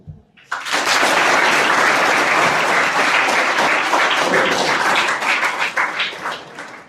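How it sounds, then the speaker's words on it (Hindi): Schoolchildren in a moral-education class clap for themselves, a sudden loud burst of dense clapping that holds steady for several seconds and then tapers off. "आप लोग सच बोला इसलिए अपने लिए ताली बजाओ।"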